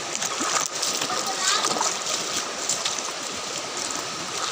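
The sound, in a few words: fast-flowing stream water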